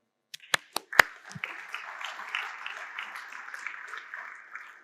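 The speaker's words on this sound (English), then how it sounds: "please give them a round of applause" Audience applause for two companies at a tech talk, starting with a few sharp separate claps, then swelling into steady, moderately loud clapping from a crowd that fades slightly near the end.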